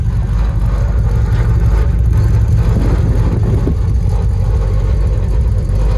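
A 1964 Chevrolet Impala SS engine with a rebuilt drivetrain drones steadily and loudly with a low, rumbling hum as the car drives along.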